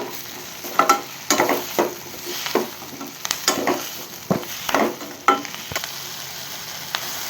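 Ingredients for paneer butter masala sautéing in a pan, a continuous sizzle broken by irregular scraping and stirring strokes close by, with no voices.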